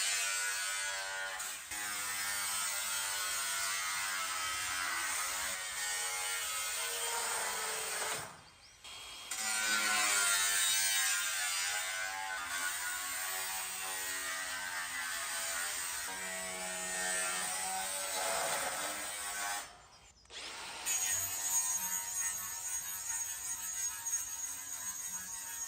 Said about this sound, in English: I guess just an angle grinder works.